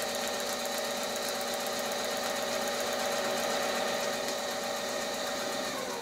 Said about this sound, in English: I'm going to kind of travel stitch against that side of the Paisley